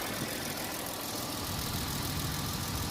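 A 2003 Mercedes-Benz ML 350, filled with the wrong gas and showing a check engine light, idles with a steady, rough, continuous rumble. No voices are heard over the engine.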